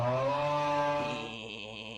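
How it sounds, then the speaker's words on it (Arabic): A small motor whines with a steady tone that sinks slightly in pitch, then softens after about a second and keeps running quieter, with no voices over it. "شو هذا؟ صوت محرك شطاف؟"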